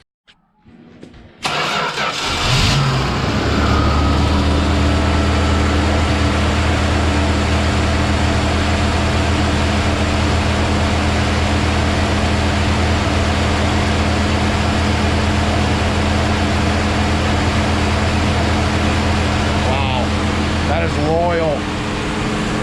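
A carbureted 1975 Plymouth Duster engine cranks, catches and settles into a loud, steady idle that runs for about twenty seconds, with a faint squeal near the end.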